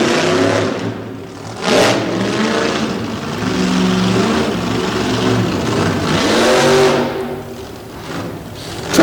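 A re-geared race truck's engine revs hard through a run at a Mayhem in Maryland event, with a loud, steady mid-pitched roar that rises and falls across several throttle surges, with no talk over it.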